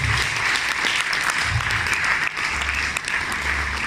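Dense, steady applause from a large audience greeting company president Craig Moon at a Forever Living Products France event in Mauritius, continuous and fairly close.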